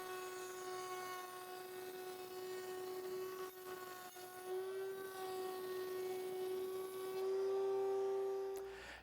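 A router cuts a tapered edge on a cleat for a Shaker-style workbench, giving a steady high-pitched whine that holds at an even pitch, rises slightly in level near the end, then cuts off.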